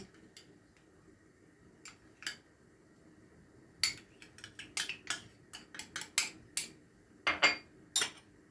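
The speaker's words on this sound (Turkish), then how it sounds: "Şimdi bunu güzelce karıştıralım." An artichoke and broad bean salad tossed with cutlery in a bowl: a few sparse clinks, then a rapid cluster of sharp scraping and tapping strokes, close and clear against a quiet background.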